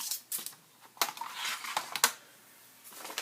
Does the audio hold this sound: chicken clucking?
no